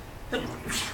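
A single sneeze, fairly close and moderately loud, breaking over a quiet classroom.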